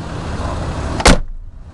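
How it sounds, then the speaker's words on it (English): A GM car door slams shut once with a loud, sharp thud after a stretch of steady background noise, followed by quieter settling sounds. "door is closed"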